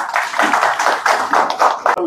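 Audience clapping for a police team that recovered stolen mobile phones, a broad wash of hands in pulsing bursts that swell and fade over about two seconds, loud and close with no clear speech on top.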